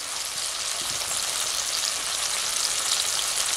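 Ginger and green chilli pastes hit a pan of cabbage over a low flame, giving a continuous, soft, hissing sizzle like light rain that stays steady and close with no voices.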